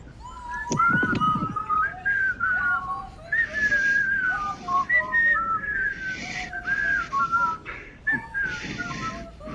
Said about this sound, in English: Let's whistle a tune.